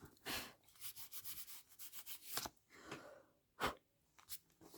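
Brisk rubbing strokes on a wallpaper-sample envelope for a junk journal, uneven scraping bursts coming close and fairly faint, separated by brief pauses.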